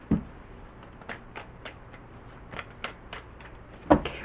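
Soft, scattered flicks and taps of tarot cards being shuffled, quiet and irregular, with a sharper snap near the end and no talking.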